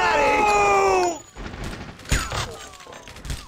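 Gunfire in the video game True Crime: Streets of LA comes as a few sharp bursts and thuds against game noise, while a person talks over the action.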